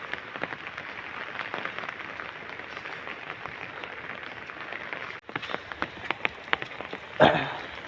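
Steady rain patters on a surface, with scattered sharper drops and a brief dip and louder splash near the end.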